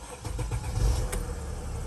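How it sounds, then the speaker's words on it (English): A Mercedes ML280 engine cranks briefly and catches, a short low rumble up close that settles into a steady idle. "Start the engine."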